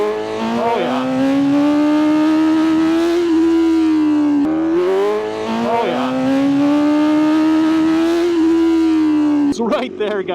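A motorcycle accelerates hard into a wheelie with wheelie control switched off, its engine wailing loud and high, easing off and revving up again in two long pulls, close to the rider.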